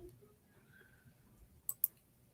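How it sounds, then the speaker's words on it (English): Two sharp, close clicks of a computer mouse button come in quick succession near the end, standing out against a quiet room with faint background hum. "I definitely need to get a new mouse. I don't like the clicking."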